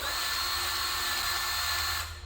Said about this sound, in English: Milwaukee cordless grease gun.